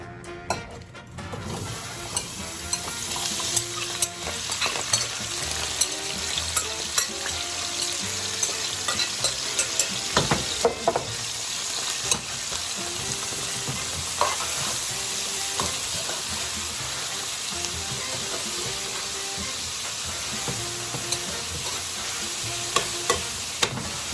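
Fresh vegetables sizzle steadily in olive oil in a pan for Puerto Rican rice, a dense, even crackle that holds for a long stretch with a few sharper pops and clicks.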